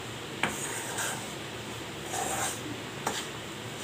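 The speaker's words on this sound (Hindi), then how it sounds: "इसको कम से कम लो फ्लेम पे 10-15 मिनट के लिए भूनना है" Semolina and flour roast in ghee in a pan over a low flame, a faint steady sizzle broken by soft scraping strokes of a spoon against the pan at intervals.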